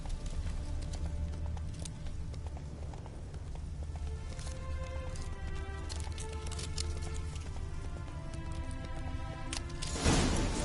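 Hooves clip-clop in steady rhythm as a horse gallops in a PS4 video game, continuous under a low music-like drone, with a brief louder burst near the end.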